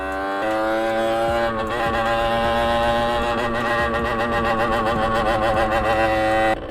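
A stock 50cc motorcycle with a loose exhaust drones loudly and raspily close by, its engine holding a steady buzzing note with slight wavering revs throughout and no talk.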